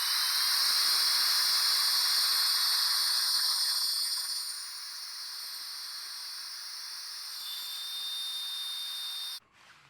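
An XCoo handheld cordless vacuum sucks the air out of a storage bag with a steady, close, hissing whine. The sound eases slightly partway through, then cuts off abruptly just before the end.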